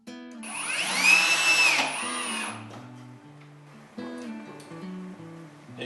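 A drill bores pocket holes in pine boards, a loud high whine that winds up, holds for about a second and a half and then drops, followed by quieter motor hum and clatter from the tool.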